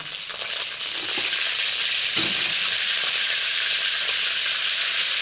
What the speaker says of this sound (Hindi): सबसे पहले जो कड़ी पत्ता मैंने ताज़ा अभी तोड़ कर लाया था वो डाल दिया जाएगा तेल में